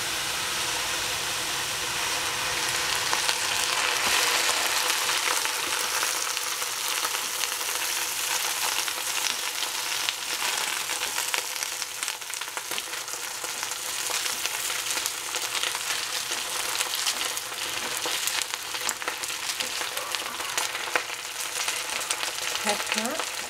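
Shrimp with lettuce and capsicum frying steadily in hot cooking oil, a continuous close sizzle with occasional stirring, no talking.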